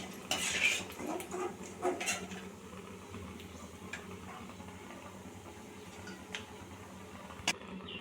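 Grated coconut roasting to golden brown in a pan for masala aval, with a utensil clinking and scraping against the pan in a few sharp taps early on over a low, steady background.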